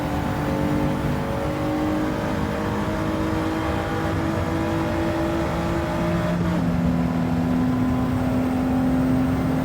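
A Pontiac GTO race car in Gran Turismo 7 holds a steady, droning engine note that climbs in pitch and then drops to a lower gear around the middle, loud and continuous with no voices.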